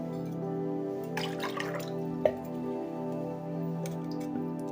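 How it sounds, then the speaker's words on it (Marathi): Water poured from a glass over a homemade cornflour mixture gives a soft, steady liquid trickle with a few drips and a small splash midway, close and fairly quiet, with no talking. "बघा अजून अर्धा ग्लास मी पाणी घालते याच्यावरून"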